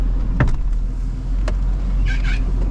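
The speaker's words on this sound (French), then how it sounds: "C'est le pneu qui frotte." Tyre on a Nissan Patrol rubbing against its wheel arch in deep mud, heard under a steady engine rumble with a couple of dull knocks and a short squealing scrape near the end.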